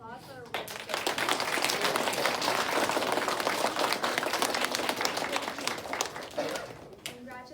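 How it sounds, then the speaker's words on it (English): An audience at a school awards assembly for the upper grades claps in a dense, sustained burst lasting several seconds, with a voice briefly heard at the start and the end. "Let's do another big round of applause for our"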